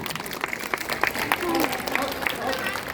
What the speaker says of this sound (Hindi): एक जोरदार तालियां इन बच्चों के लिए।